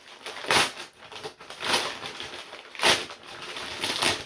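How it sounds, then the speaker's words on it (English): Scissors snip and slice through cardboard packages in a few separate bursts of crisp scraping and cutting, close up and fairly quiet, with rustling between the cuts. "For those of you who are into the sound of opening packages, this video is for you."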